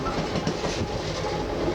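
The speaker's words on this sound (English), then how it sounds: "The train is operating fine." A CP Rail coal train with distributed power rolls along the rails, heard from a car vestibule as a continuous rumbling roar with steady clickety-clack of wheels over joints, close and unbroken.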